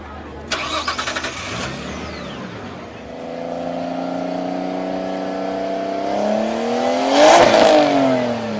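A modified street car fitted with nitrous, shown at SuperNats in Australia, cranks and fires up loudly, then idles and revs, the engine note climbing to a strong peak near the end.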